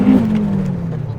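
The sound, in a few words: turbocharged Honda Civic engine running after warm-up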